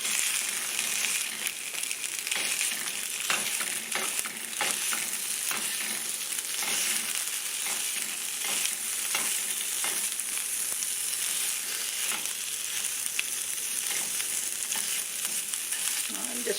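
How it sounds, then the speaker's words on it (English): Four sausage patties frying in a pot, a loud, steady hiss of sizzling fat with crackling pops throughout, close and continuous. "I'm going to go ahead and add my 4 sausage patties into the pot"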